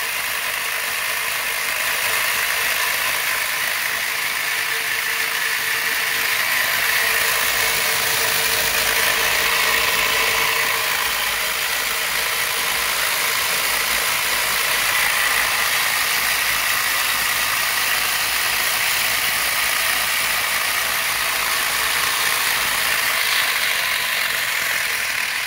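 A 3D-printed pulse motor runs continuously with a fast, even mechanical whirring and ratcheting buzz, loud and close, steady for the whole stretch with no talk.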